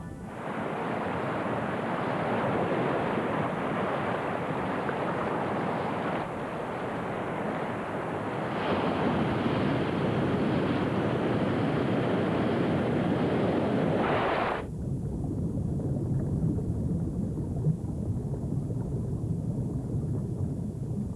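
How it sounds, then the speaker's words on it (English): Tidal bore surging up the River Severn: a loud, continuous roar of rushing, churning water that holds steady, then drops abruptly to a lower, softer wash of flowing water. "they are helped by a tide that passes up the river, known as the Severn Bore"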